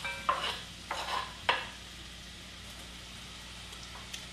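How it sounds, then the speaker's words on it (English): Chopped onions in oil in a pot, stirred with a few scraping strokes in quick succession over a faint, steady sizzle, close and quiet, with no talking. "I'm just stirring the onions here to get them all coated in the oil"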